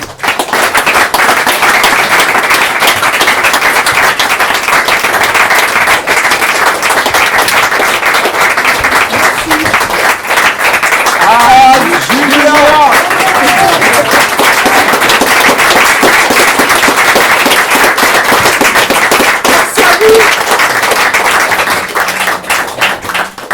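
An audience claps at the close of a French stage performance, the dense, even applause running steadily at full volume throughout, with a few brief tonal sounds briefly surfacing midway.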